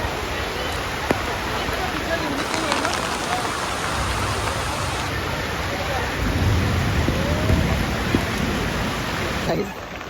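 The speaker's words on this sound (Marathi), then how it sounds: "पाऊस जोरात आहे" Heavy rain pours down at an outdoor engagement ceremony, a dense, loud, unbroken roar of drops on surfaces close around, with faint voices mixed into the downpour.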